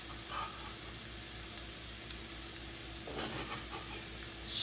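Garlic sizzling in a pan alongside ground sausage and green onion for ramen, a steady close frying hiss with faint stirring scrapes, no talking.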